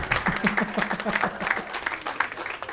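Comedy club crowd applauding a comedian at a live stand-up showcase, steady dense clapping with some cheering, sustained throughout at moderate distance.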